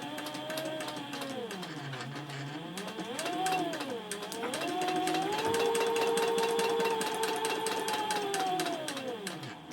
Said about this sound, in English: flip it over and baste right across the top to hold everything in place